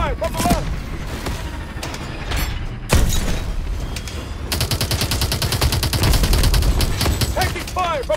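Loud, sustained gunfire in Call of Duty: Advanced Warfare, rapid automatic bursts and heavy tank cannon booms rattling continuously, growing denser in the second half.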